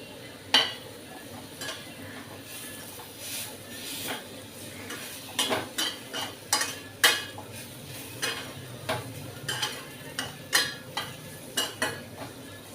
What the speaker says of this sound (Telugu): ఒక నిమిషం పాటు అటు ఇటు తిప్పుదాం అన్నమాట అంతా కళాయిలో